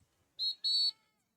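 A referee's whistle shrills twice at a football game, a short blast followed by a longer one, clear and fairly close over a quiet background.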